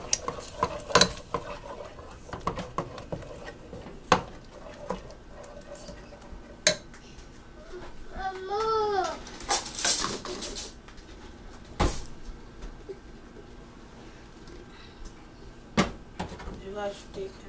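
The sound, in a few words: mixing food in the kitchen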